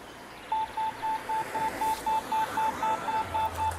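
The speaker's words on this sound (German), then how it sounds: "ich muss dringend meinen Klingelton vom Handy ändern" A cheerful electronic phone ringtone of short, evenly spaced beeps repeating in a steady rhythm, clear and close, with no voices.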